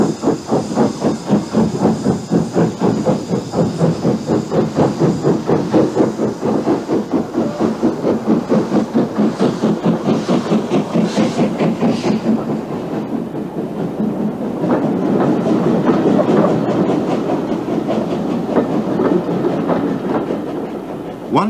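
Preserved LMS steam locomotive, normally based on the Severn Valley Railway, working a Yuletide train on the Swanage line: loud rhythmic chuffing with hissing steam, steady beat throughout, close by, swelling into a broader roar near the end.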